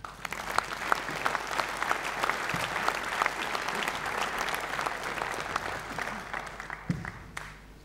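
A graduation ceremony audience claps in sustained, even applause from a large crowd that carries on for several seconds before thinning out at the end.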